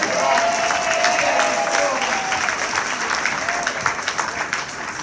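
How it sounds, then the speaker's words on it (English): Sustained applause from a comedy night audience, dense and steady throughout before tapering slightly near the end, with a few voices mixed into the crowd. "You got to give them a big round of applause."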